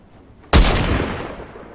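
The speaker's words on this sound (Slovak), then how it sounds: "Musím dať sniper." A single sharp sniper rifle shot in Fortnite cracks loudly after a near-silent moment, then a long booming tail decays over about a second.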